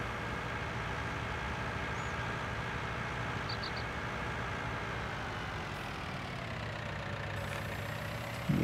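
A farm tractor with a stump grinder attached idles in Farming Simulator 19, giving off a steady low engine hum at a quiet level, alone without any voice.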